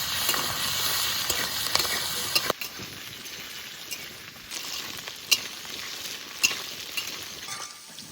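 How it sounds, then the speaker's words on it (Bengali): Slit green chillies and potatoes frying together in hot oil, a steady close sizzle broken by occasional spatula scrapes and clinks against the pan. "এবার দিয়ে দেবো কাঁচা লঙ্কা চেরা আর আলু একসঙ্গে ভেজে নেবো।"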